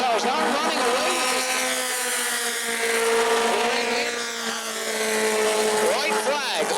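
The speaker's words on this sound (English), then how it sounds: "Yeah, 4-cylinder engines in these cars, so you got to keep that momentum wound up." Cars with 4-cylinder engines race at New Smyrna, their high engine whine rising and falling as they pass close by, loud and continuous, with a commentator talking over it.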